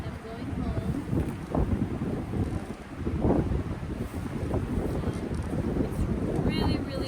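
Strong gusty wind sweeps across a backcountry lake campsite in Algonquin Park, rising and falling in loud buffeting rushes against the microphone, with a voice speaking faintly underneath.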